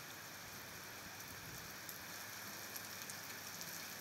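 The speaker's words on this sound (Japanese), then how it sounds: "あいにくの雨。" Steady rain falls on a rainy festival day in Tsuruta, Aomori, Japan, a constant soft hiss of drops on surfaces with faint scattered patters, even and fairly quiet throughout with no voices.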